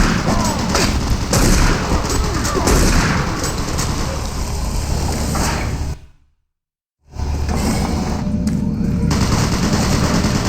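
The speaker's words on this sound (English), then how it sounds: "Warning. Automated turret guns online." Automated turret guns in DOOM 3 BFG Edition fire loud, continuous rapid bursts, cut by about a second of silence, then start firing again just as heavily.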